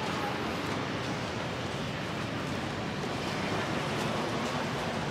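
Sea waves wash onto the beach at Yuguang Island in Tainan, a rough stretch of coast popular with surfers, heard as a constant broad rushing surf mixed with wind buffeting the microphone.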